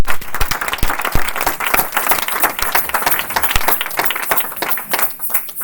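A church congregation claps loudly and vigorously, with dense applause and sharp individual hand claps standing out in an uneven, energetic rhythm all the way through.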